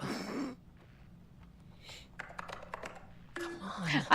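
A few scattered keyboard taps in the video game Alan Wake 2, faint and sparse between louder moments, with breathing and vocal sounds around them.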